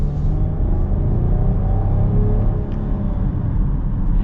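A 2025 Chrysler Pacifica minivan accelerating, a steady, loud engine and road rumble heard from inside the cabin, even and continuous without breaks.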